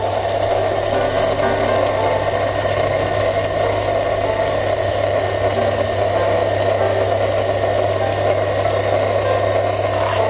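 An MB 600 coffee grinder grinds espresso beans in a continuous, steady motorized whir with a gritty rasping edge and a constant low hum, loud and close throughout, with no talking.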